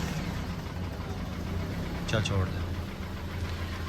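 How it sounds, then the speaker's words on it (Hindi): Toyota Hiace Grand Cabin van with a 2TR petrol engine idling smoothly, a low steady rumble heard close by, with someone speaking briefly over it partway through. "2TR पेट्रोल इंजन है और बिल्कुल स्मूथ है। स्टार्ट करें"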